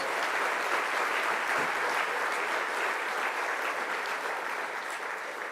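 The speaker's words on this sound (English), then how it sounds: "Let's give all of our partner sponsors a round of applause." Sustained, steady applause from a large audience at a cancer foundation's annual luncheon, a dense even wash of clapping that holds at constant loudness throughout.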